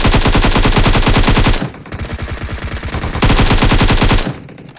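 Rapid automatic gunfire in the PUBG Mobile game, loud and close, with long sustained bursts of fast repeating shots and a quieter stretch of shots in between.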